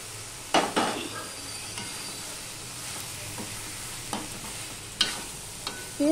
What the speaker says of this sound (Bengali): সম্পূর্ণটা আমি 1 মিনিটের মতন আবার সম্পূর্ণ মিশিয়ে নিয়ে কষিয়ে নেব